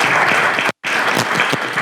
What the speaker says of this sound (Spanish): Yo les pediría un aplauso más fuerte para el comisionado